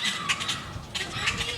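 Birds flap their wings close by in a quick, fluttering burst that lasts only a moment.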